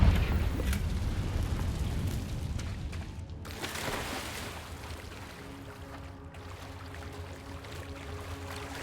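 Confringo blasting spell going off in Hogwarts Legacy, a loud booming blast up front that rolls into a long rumbling, crackling decay, with a second burst of debris noise midway.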